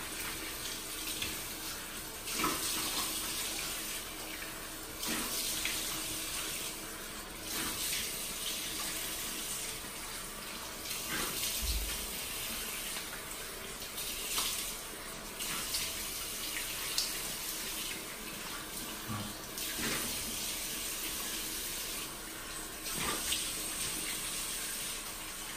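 Tap water runs steadily into a sink to rinse a detachable facial-cleansing device head, a continuous close splashing hiss with small shifts in flow.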